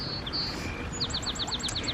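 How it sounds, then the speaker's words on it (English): Small birds chirp in a spring park garden, a quick run of high repeated tweets after a few sparse calls, light and somewhat distant over a soft outdoor background. "You hear the birds in the background?"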